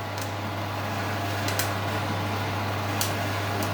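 A Sandbox Smart R1 coffee roaster runs in a kitchen beside an open window, producing a faint, steady low mechanical hum and fan whir with a few soft ticks, and no voices.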